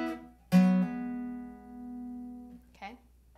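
An electric guitar riff: a struck double-stop rings for about two seconds, then a short second pick of notes follows, played alone without talking.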